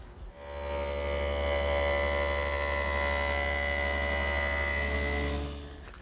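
A table saw fitted for a 3/8 inch dado cut spins up into a steady, loud motor whine with strong hum tones, runs evenly for several seconds, then winds down.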